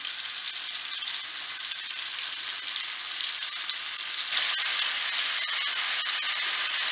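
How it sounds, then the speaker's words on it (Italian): Floured pieces of venison frying in butter, a continuous bright sizzling hiss close to the pan that grows a little louder near the end, with no voices. "Quando il burro comincerà a soffriggere, versate i pezzetti di capriolo infarinati."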